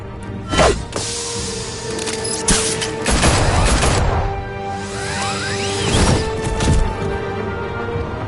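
Gunfire in the Batman Telltale Series video game: sharp bursts of shots mixed with crashes, shattering and whooshing swipes, loud and chaotic, arriving in several clusters over a busy action soundtrack.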